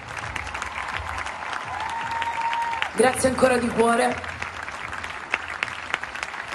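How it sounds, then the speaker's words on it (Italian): Concert crowd applauding on a music tour, a steady broadband clapping wash throughout, with someone speaking over it in the middle. "L'applauso più grande lo faccio io a voi"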